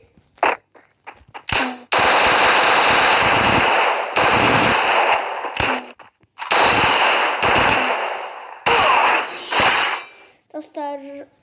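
Machine gun fire in the Free Fire mobile game: several long, loud automatic bursts broken by short pauses and single shots, ending with mechanical clicks.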